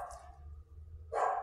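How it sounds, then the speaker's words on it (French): A pet dog named Tonio barks indoors, a single loud burst near the end after a quieter stretch of room noise, close to the microphone. "J'ai mon chien qui aboie"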